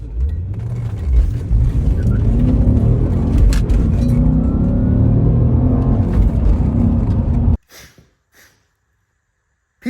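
An abandoned Audi S4 barn find on a test drive, a loud, steady engine drone and road rumble from inside the car, cutting off abruptly near the end, with faint talk underneath.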